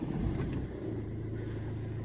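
Diesel Opel Corsa D with a worn auxiliary belt tensioner pulley starting up, a brief cranking burst that catches into a low steady idle rumble, heard close with no talking.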